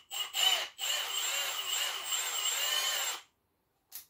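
A Milwaukee cordless drill with a screw bit drives a screw in one steady whirring run of about two and a half seconds after a couple of short bursts, then stops, with a brief blip at the end. No one talks.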